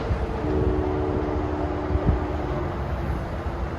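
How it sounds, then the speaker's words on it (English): A Trenton-bound train hauled by an ALP-46A electric locomotive passes on a sunny day, a steady broadband rumble with sustained tonal hum and a couple of sharp clanks. "Trenton-bound train there"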